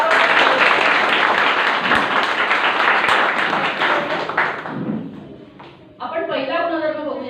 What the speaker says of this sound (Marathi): कॅन्गेनसाठी एकदा टाळ्या होते.